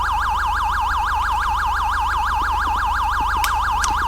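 A police car siren in Grand Theft Auto V with the LSPDFR mod wails loud and close in a fast, even up-and-down cycle, with a couple of brief clicks near the end.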